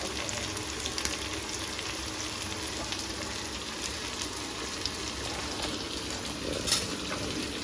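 Onions and chicken frying in a pan with a steady, dense sizzle that holds at an even loudness throughout, close and with no talk over it.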